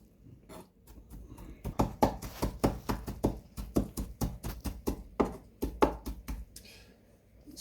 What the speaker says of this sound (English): So I am done with the chopping.